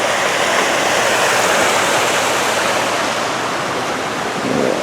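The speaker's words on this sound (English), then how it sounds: "It's got a little waterfall right alongside it." A small waterfall beside a river in the town of Warren, Vermont, in October, heard as a loud, steady, broadband rush of falling water that does not change for the whole stretch, with no voices.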